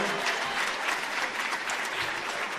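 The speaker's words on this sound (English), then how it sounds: "How about a big round of applause for all these student athletes?" Sustained applause from a crowd honoring student athletes at a high school all-star volleyball event, steady and dense throughout with no pauses.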